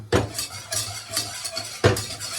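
Ingredients being mixed in a bowl while cooking Jamaican food, giving a steady scraping, sloshing stir with a spoon, clinking sharply against the bowl about twice, close and moderately loud.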